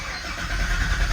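A Corvette engine turning over and catching, its low rumble swelling partway through into a steady, close, deep idle with no talking.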